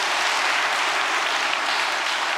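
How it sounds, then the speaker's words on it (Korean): Loud, dense applause from a large audience at a Peace Road reunification festival report, a steady unbroken roar of clapping with no talk over it. "여러분 박수 한번 크게 한번 보내주시면 고맙겠습니다"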